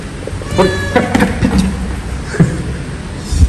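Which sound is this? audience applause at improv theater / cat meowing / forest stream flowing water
cat meowing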